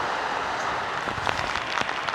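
Heavy typhoon rain pours steadily on a small farm with pig pens, a dense unbroken hiss with a few sharper splashes and drips toward the end.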